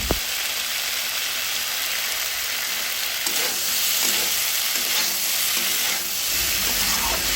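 Cauliflower and potato sauté in hot oil for a silver carp fish curry, a dense, steady sizzle like light rain with occasional soft stirring scrapes, close and continuous.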